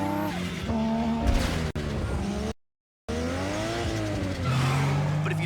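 A race car launches in Need for Speed Underground 2, the engine revving hard with rising pitch and tire squeal, then a brief drop to silence before it roars on again.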